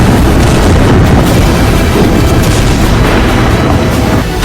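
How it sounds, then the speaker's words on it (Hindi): Heavy, sustained rumbling booms from Israeli air strikes on a Hezbollah base in southern Lebanon, loud and dense throughout with no voices. "हिजबुल्लाह के एक बेस पर इजरायली सेना ने लगातार 3 हमले किए।"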